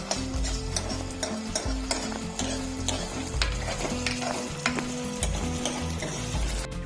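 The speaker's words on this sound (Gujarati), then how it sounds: "હવે ટામેટા બી થોડા હતરાઈ જાય ત્યાં સુધી આપણે એને ફેરવીશું" Tomatoes sizzle as they fry in a pan for Maggi noodles, with a spoon stirring and scraping in a steady rhythm over a continuous loud hiss, and no voices.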